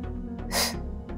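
A single short, forceful exhale bursts out close to the mic during a beginner mat Pilates workout with a ring. It is a quick breathy puff over a low steady hum.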